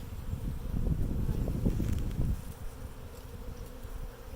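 Honey bees swarm and hum close around a new Flow Hive as a colony is installed, a steady dense buzzing that is loudest early on and then thins a little.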